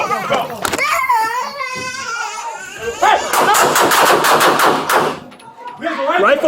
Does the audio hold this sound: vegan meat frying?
no